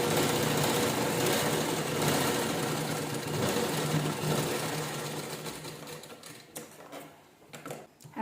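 A sewing machine stitches fabric with a dense, rapid mechanical whir, running steadily and loudly at first, then slowing and breaking into a few uneven stuttering bursts before stopping near the end.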